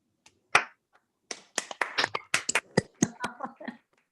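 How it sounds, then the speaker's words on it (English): A few people on an online call clap for Randi after being unmuted, giving scattered, uneven claps with a single snap-like tap at first, then a loose patter of several hands that thins out after about four seconds. "There is a request to unmute everyone and to give Randi an applause."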